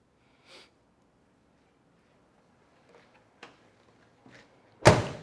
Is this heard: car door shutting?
yes